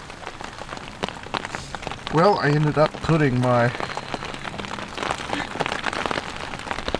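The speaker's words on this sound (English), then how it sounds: "listening to it rain" Rain patters steadily on a camp awning at a bushcraft camp, a dense constant drumming under a man's speech, with a brief vocal passage in the middle.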